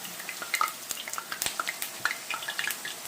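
Corn tortillas fry in hot oil, crisping like chips, giving a faint, continuous crackle with scattered sharp pops and sizzles throughout.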